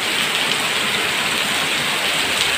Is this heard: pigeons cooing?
no